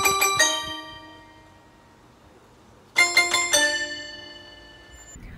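A short motif from Beethoven's Fifth Symphony rings out twice, each time as three quick bright struck notes followed by a longer sustained one, separated by a quiet pause, with a bell-like tone.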